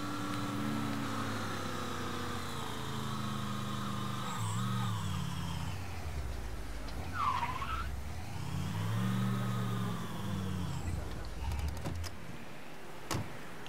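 Car engine with a dual exhaust in the video game Mafia 3, a steady mid-pitched drone that rises and falls with revving and gear shifts over about fourteen seconds, fairly quiet and unaccompanied by talk.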